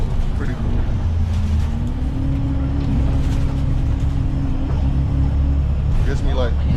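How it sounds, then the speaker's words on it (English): Steady low engine rumble and road noise from inside a moving city bus in Hong Kong, with a sustained drone throughout and faint movement sounds near the end. "seeing the sights of the city from the angle of a bus instead of a car"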